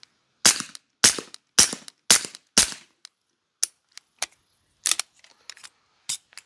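Five loud suppressed gunshots from an M9A4 fitted with a PWS BDE9 suppressor fire in a steady, evenly spaced string, followed by quieter scattered clicks and handling noises.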